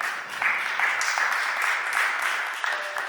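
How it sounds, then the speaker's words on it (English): An audience at a Philadelphia city council meeting gives a round of applause, a continuous wash of clapping from many hands in a large hall, steady and moderately loud for a few seconds. "I thank you every week when you give them a round of applause."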